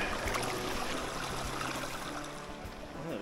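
A river in the Riesengebirge mountains flows steadily with a soft, even rush of water on a near-freezing winter hike, faint and continuous throughout with no voices.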